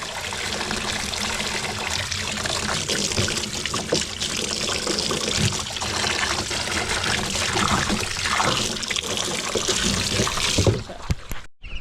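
Running water rinses dirt off delicate garden seedlings, a steady close splashing trickle that goes on for about ten seconds and then cuts off abruptly, with no speech.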